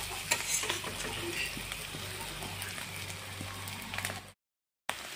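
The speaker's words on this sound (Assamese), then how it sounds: "এনেদৰে অলপ টাইম ভাজি লৈ আছোঁ।" Potatoes and egg fry and are stirred in a pan, giving a steady close sizzle with scraping stir sounds, then a short silent gap before the frying returns.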